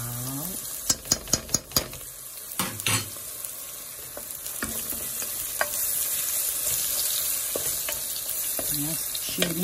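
Ginger, garlic and onion fry in a pan: a quick run of sharp utensil taps and scrapes opens, then a steady, even sizzle carries on at moderate volume with occasional soft stirring clicks.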